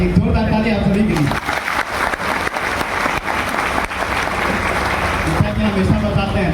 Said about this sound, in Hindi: एक जोरदार ताली आप सभी के लिए।